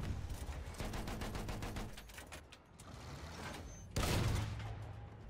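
Battlefield 1 gunfire rattles off in rapid automatic bursts, then a louder blast hits near the end.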